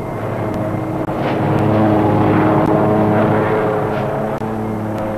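A rescue helicopter over Greenland sea ice drones loudly and steadily with a throbbing rotor and engine roar, swelling as it draws near with no speech over it.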